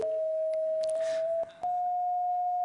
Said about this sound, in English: This is red, like Ted.